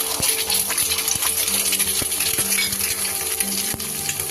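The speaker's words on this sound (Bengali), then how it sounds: "দিয়ে এইভাবে ঝুড়ো ঝুড়ো করে ডিমটাকে আমি ভেজে নিচ্ছি" Eggs sizzling in hot oil in a wok while being scrambled into small pieces, a steady crackling hiss broken by sharp metallic taps and scrapes of a spatula against the pan.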